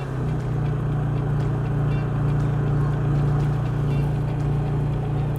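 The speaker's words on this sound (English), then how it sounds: "Choke on, turn the key, then choke slowly off." Honda EU30is portable generator running steadily after a choke-assisted key start, a loud, even engine drone with a strong low hum that holds unchanged throughout, heard alone without talk.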